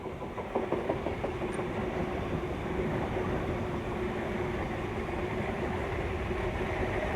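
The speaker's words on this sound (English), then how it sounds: "This is the last North Shore service passing platform number 1." A NSW Trainlink North Shore service train, eight cars, passes platform 1, giving a steady rumble with rapid wheel clatter over rail joints, loud and continuous throughout.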